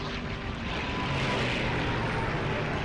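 Steady, loud drone of airplane engines in the Xbox One flight combat game Iron Wings, a continuous roar with no pauses and no voices.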